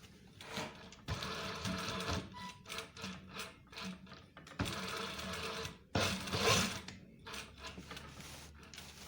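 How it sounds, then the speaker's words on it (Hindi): A sewing machine stitches a double-turned trouser hem on a police uniform pant in several bursts, starting and stopping with short pauses between runs, close and clear with no talking. "एक बूट के फासले पर सिलाई टच कर देनी है"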